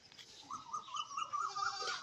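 Several goats bleat in a string of wavering, nasal calls, moderately distant and fairly quiet, overlapping one another with no talking.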